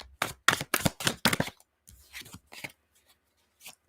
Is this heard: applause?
no